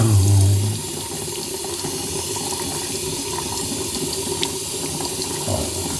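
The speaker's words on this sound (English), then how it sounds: "Yeah, so I can wash my face." Water runs steadily from a sink tap for face washing after a shave, a close, continuous splashing hiss with a short low hum at the start.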